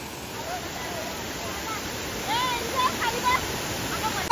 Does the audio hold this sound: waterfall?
yes